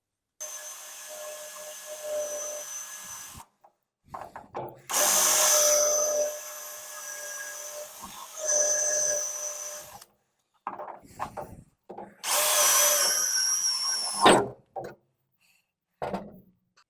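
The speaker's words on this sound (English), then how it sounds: "when I was drilling out those spot welds" Power drill boring out spot welds on the rust-damaged longitudinal panel of a barn-find 1968 Porsche 911S, two sustained high-pitched whining bursts of drilling with quieter handling noises and pauses between them, close by.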